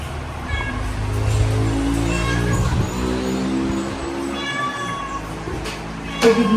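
A pet cat meows several times in a home, close and clear over a steady background rumble of passing road traffic.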